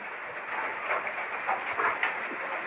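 Steady rain falls outdoors in a forest setting where an elephant roams, a soft continuous hiss with scattered faint droplet taps and no voices.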